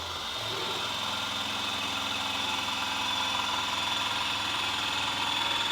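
A Roadtek 2 ton powered floor jack raising a BMW M2, its motor giving a steady, even electric whir that holds constant and close for several seconds with no pumping.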